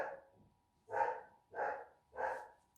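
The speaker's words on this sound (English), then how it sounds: "my girls are barking." Pet dogs, one named Daisy, bark inside a home: three loud, evenly spaced barks about half a second apart, following a softer, muffled yelp at the start, with no talking.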